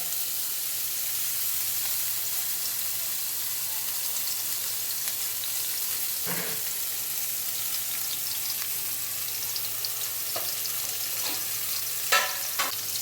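Onions sizzle in hot oil in a pan alongside fried poa fish, a steady soft frying hiss throughout with a few sharper crackles and pops near the end.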